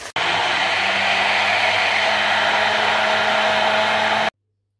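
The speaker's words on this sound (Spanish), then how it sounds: "con la batidora lo voy a triturar" A hand blender whirs steadily for about four seconds while pureeing onion in a small container, a constant close electric motor hum that stops abruptly.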